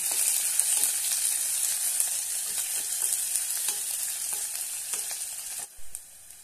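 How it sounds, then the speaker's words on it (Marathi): Finely chopped onion sautés in a pan, giving a loud, continuous hiss and sizzle with faint stirring scrapes, easing off briefly near the end. "आता यामध्ये 1 कांदा बारीक कट केलेला आहे तो घालूया। छानपैकी परतून घेऊया।"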